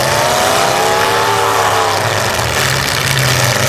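Demolition derby car number 29 revving its engine at a county derby, a loud, steady roar with rising and falling harmonic whine held continuously close by throughout.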